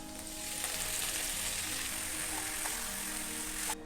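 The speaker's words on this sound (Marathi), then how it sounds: "आता यामध्ये कापून घेतलेली भाजी घालायची आहे" Chopped spinach hits hot oil seasoned with cumin seeds and crushed garlic, giving a steady, loud sizzle and crackle of frying greens that runs unbroken throughout with no talk.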